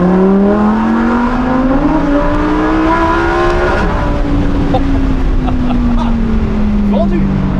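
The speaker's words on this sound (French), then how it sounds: "On entend un petit bruit d'admission en fait." A Lamborghini Huracan EVO accelerates through the gears, its engine rising in a loud steady drone with a soft intake note, pitch climbing then easing at a shift, heard from inside with people talking.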